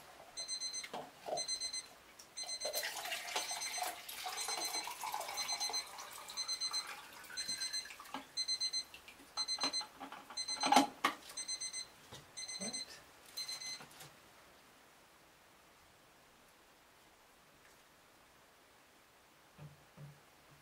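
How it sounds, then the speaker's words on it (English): A darkroom timer beeps repeatedly in steady bursts during color film developing, fairly loud and close, with some handling noise, then quiet for the last few seconds. "Timer's gonna beep."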